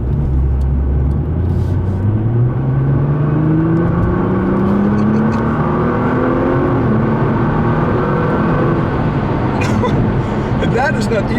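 A 2015 Nissan R35 GT-R's engine drones steadily through a corner, its pitch climbing slowly in a loud, continuous in-cabin rumble, with road and tire noise mixed underneath.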